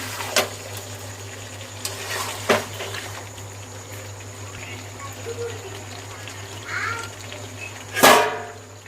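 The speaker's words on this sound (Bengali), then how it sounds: "তাই যে মটন কষানো চলছে" Mutton for biryani is sautéed in a pan with a steady low bubbling sizzle. A few sharp scrapes and knocks of a spatula against the pan break through, the loudest near the end.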